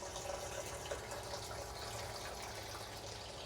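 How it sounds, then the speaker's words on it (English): Garden hose running water into a Tower Garden reservoir, a steady faint hiss and gush of filling liquid with no break. "Now, while the reservoir is filling,"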